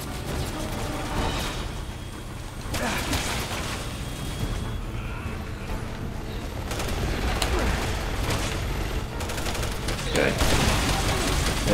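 Sniper rifle fire in Resident Evil 6, with several sharp, loud shots spaced apart over constant dense action noise and mechanical clatter.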